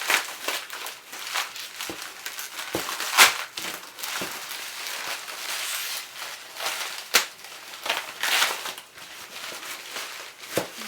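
Cardboard and paper parcel packaging torn open by hand without scissors, with repeated close crinkling, crunching rips and sharp snaps in irregular bursts.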